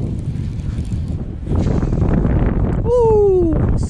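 Steady wind blowing over a fishing boat on open water, a constant broadband rush from start to finish; voices call out and a rising-then-falling whistle-like tone cuts in near the end.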